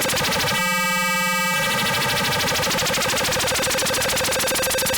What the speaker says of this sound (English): you can hear it sweeps through more of the wavetable as I turn up the depth